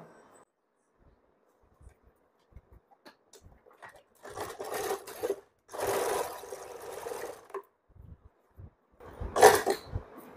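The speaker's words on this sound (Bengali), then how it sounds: "দ্বিতীয় সেলাইটাও আমি একইভাবে নিচ থেকে করে নেব।" A sewing machine stitching the seam of an umbrella frock, running in short separate bursts of whirring between quiet pauses, close by, with faint handling noises in between.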